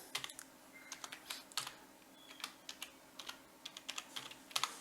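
Quiet clicking of a computer keyboard as a name is typed into an Excel spreadsheet, with irregular bursts of keystrokes recorded close and soft, without speech.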